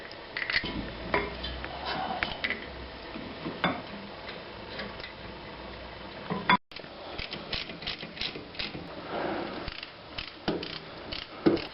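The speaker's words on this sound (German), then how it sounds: "die Bremssättel werden mit 85 Newtonmetern angezogen" A torque wrench tightens the brake caliper bolts on a Porsche 944 S2 to 85 newton-metres, heard as close, intermittent ratcheting clicks and metallic clunks with a brief break midway.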